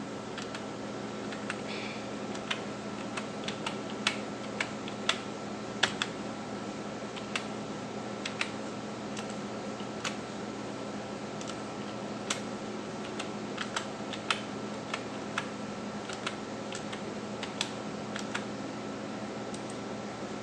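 Login ID and password being typed on a computer keyboard: a steady run of light, quick key clicks, some slightly sharper than others, over a constant low fan hum, with no one talking.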